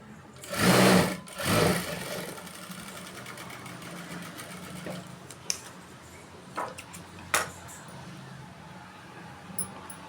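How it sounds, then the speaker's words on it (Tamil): A sewing machine stitches a blouse seam. It opens with two loud bursts of rapid stitching, then drops to a quiet background with scattered ticks and clicks. "இப்படி ஒரு தையல் போட்டு அதுக்கு மேலே ஒரு படிமான தையல் போடணும்"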